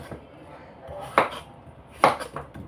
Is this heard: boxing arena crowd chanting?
no